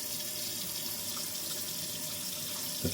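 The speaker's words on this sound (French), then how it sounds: "fais couler de l'eau froide directement" Cold water runs steadily from a tap into a sink, a continuous close splashing hiss with a small clunk near the end and no voices.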